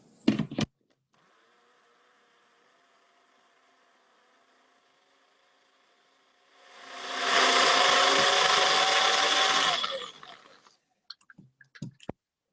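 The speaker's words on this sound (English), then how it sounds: "I'm gonna plug in my blender." An electric blender in a home kitchen whirs loudly for about three seconds while preparing a filling for baked apple turnovers, with scattered clicks and handling knocks before and after it runs in an otherwise quiet room.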